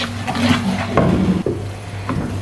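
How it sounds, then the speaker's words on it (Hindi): A spoon scrapes and stirs spices roasting in a pan for turnip bharta, with soft wooden knocks and light clatter at irregular intervals over a steady low hum, close by and moderately loud. "इन सारे मसालों को तकरीबन 3 मिनट के लिए हम अच्छी तरह से भून लेंगे।"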